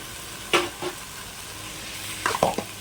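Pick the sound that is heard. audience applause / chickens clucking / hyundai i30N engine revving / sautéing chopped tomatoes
sautéing chopped tomatoes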